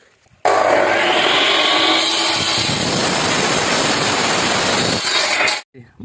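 A powered saw grinds steadily through a facing brick for about five seconds, loud and close, starting and stopping abruptly.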